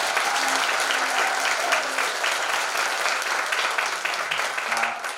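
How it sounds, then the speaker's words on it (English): Audience applause at a school winter concert, steady dense clapping filling the room for several seconds, loud and sustained, tapering slightly toward the end. "Mr. Nelson, can we give a big round of applause for doing this?"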